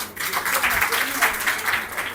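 Brief round of clapping from a school audience, a group of hands patting in a loose, uneven rhythm, moderately loud and short-lived.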